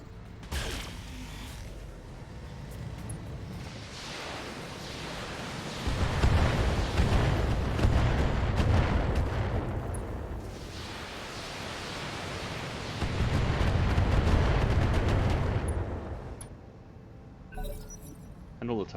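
Mech turrets firing weapons during combat in a mech video game, with an AC20 autocannon in play: a steady churning barrage of mechanical bursts that swells into two heavier, louder stretches, close and continuous.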